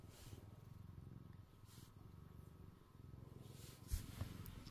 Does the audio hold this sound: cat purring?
yes